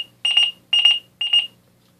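A portable pager beeps in three evenly spaced bursts, each a loud, shrill trill close to the listener, with silence between them.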